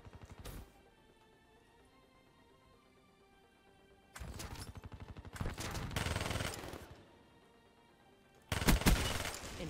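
Bursts of automatic gunfire in a team deathmatch shooter video game, three loud rapid-fire volleys separated by quieter background, the last one closest and most intense, no talking.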